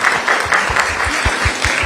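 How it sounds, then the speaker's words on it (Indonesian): Audience at a journalism discussion event clapping together, a dense and loud round of applause with rapid overlapping claps throughout. "Berikan tepuk tangan dulu."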